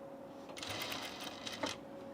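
A sewing machine stitches linen fabric at a short stitch length, giving a quiet, fast mechanical whir with a brief pause and a small clunk, close by and alone.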